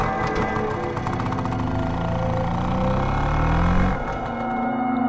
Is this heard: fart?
no